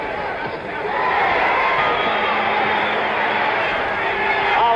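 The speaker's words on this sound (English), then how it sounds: "Ali is winning this round too. And the crowd knows it." At the Ali versus Lyle boxing match, an arena crowd sends up a dense, continuous roar and babble that swells slightly after the first second and stays loud throughout.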